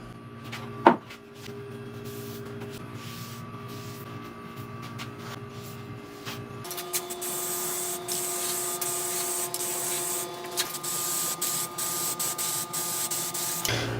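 A can of gloss black high heat spray paint hisses in steady, close spraying passes over car suspension parts, with faint knocks and handling noises around it and no talking.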